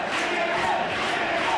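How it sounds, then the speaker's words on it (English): A dense wrestling crowd roars and cheers continuously for their favorites in a pro wrestling match between Arik Cannon and Chris Hero, a loud unbroken wall of voices filling the arena. "this crowd getting behind their respective favorite in the matchup"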